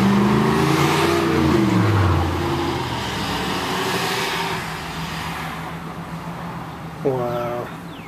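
Road traffic in a local jam during prom season, cars passing close by with engine rumble and a rising rev, swells fading toward the end, while a person talks over it.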